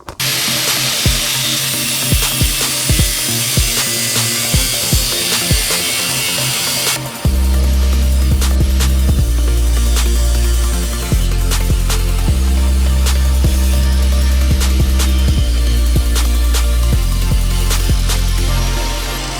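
Metal cut to fit a Greddy front-mount intercooler, loud and close: sharp rhythmic scraping strokes give way to a sustained power-tool whine that drops out briefly and starts again several times.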